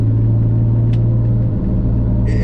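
Loud, steady low exhaust rumble from a BMW E34 while driving, with a continuous deep drone and no speech.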